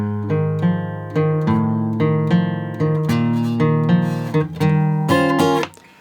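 Guitar in standard tuning plays the two-bar intro to a song, with strummed and picked chords ringing out in a steady, unhurried rhythm, close and clear with no voice over it.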